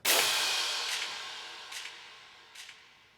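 A crash cymbal sample in a drill beat rings out with one loud bright hit that decays slowly across the whole clip, with three fainter noisy accents recurring at roughly even intervals.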